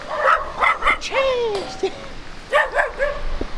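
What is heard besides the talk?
small dogs barking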